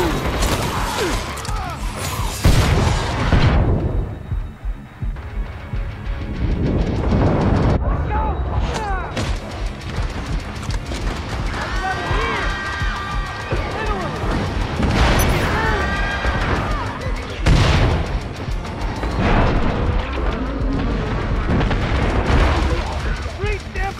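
Grenade blasts in the zombie shooter Killing Floor 2, with several deep booming explosions and gunfire in a loud, dense game mix, while people talk over the action.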